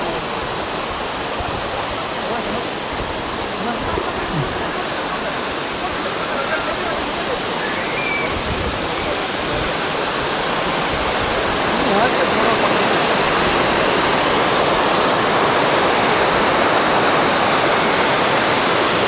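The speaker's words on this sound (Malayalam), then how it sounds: "ഇതാണ് ഫസ്റ്റ് വരുന്ന വാട്ടർഫാള്." A waterfall in Meghalaya roars close by, a dense and constant rush of falling water that stays loud and unbroken throughout.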